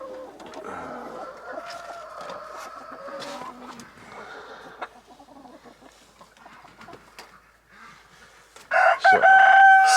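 Backyard chickens cluck and chatter on a snowy farm, with a rooster crowing loudly and close near the end.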